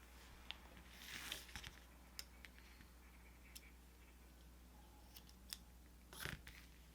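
Scissors snipping number 6 super bulky yarn while crocheting a basket cover, a few quiet close clicks and short snips with soft handling rustle in a hushed room, no talking.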